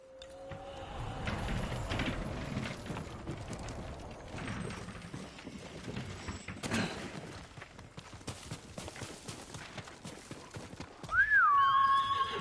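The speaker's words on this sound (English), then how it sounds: "Horse!" A horse whinnies loudly and its hooves clip-clop in a Ghost of Tsushima game scene, with the neigh rising and falling near the end over rustling movement.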